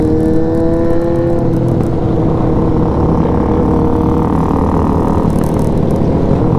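Stunt motorcycle engines rev loudly and close by on a group ride, rising and falling in pitch over a constant roar of road and wind noise.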